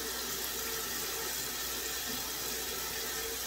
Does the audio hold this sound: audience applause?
no